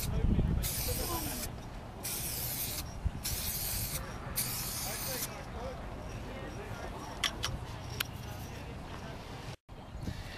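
Scorpion UV protection sealant sprayed from an aerosol can onto a car headlight, several loud hissing bursts in quick succession near the start, followed by quieter background noise and a few short clicks.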